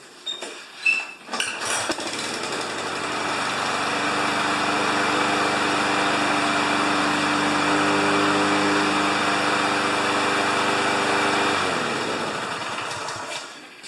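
A small gasoline engine, almost out of fuel, is pulled over a few times with rattles and knocks, then catches and runs at a steady, fairly loud idle before being shut off.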